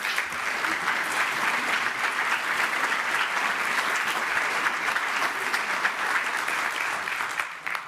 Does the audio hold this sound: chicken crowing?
no